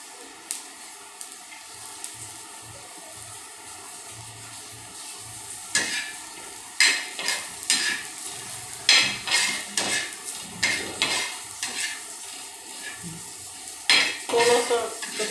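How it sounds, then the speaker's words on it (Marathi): Dry coconut being roasted in a pan, a spatula scraping and stirring with irregular clinks and scratches against the metal over a soft steady sizzle, close and moderately loud, no talk. "सुकं खोबरं भाजूया।"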